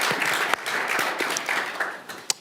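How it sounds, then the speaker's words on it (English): Audience applause at a World Economic Forum annual meeting panel as speakers are welcomed to the stage, a steady wash of many hands clapping from a large crowd, with a few sharper individual claps standing out. "So give them a nice round of applause to welcome them to the stage."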